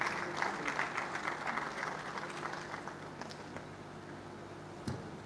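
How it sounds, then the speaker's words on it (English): Moderate applause from an audience at a sustainable aquaculture conference, steady clapping that gradually thins out and fades, heard from a little distance. "Applaud Eze for me, s'il vous plaît"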